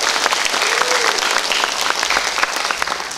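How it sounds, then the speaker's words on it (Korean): An audience at a business seminar applauds, dense steady clapping that fills the room at close range for the whole stretch. "지금까지 열정적으로 스피치를 해주신 우리 백순보 사장님께 큰 박수 부탁드리겠습니다"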